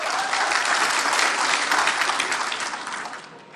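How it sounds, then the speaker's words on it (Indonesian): Lively audience applause at an Aceh gubernatorial election debate, a dense, full crowd clapping at strong volume that holds for a few seconds before tapering off near the close. "Tepuk tangan meriah."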